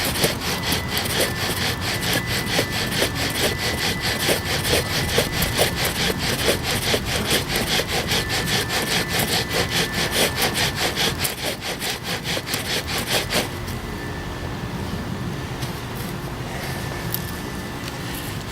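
A bow drill spins against a European white birch board for friction fire, making a continuous rhythmic back-and-forth rasping and grinding of wood on wood that eases off near the end.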